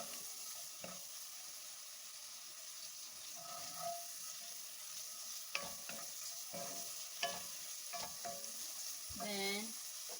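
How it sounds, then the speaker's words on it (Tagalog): Carrots sautéing in a pan with salt and pepper, a soft sizzle under repeated scrapes and stirring taps of a utensil, ending with a brief clatter, no talking. "Ayan guys, nagisa na natin yung carrots."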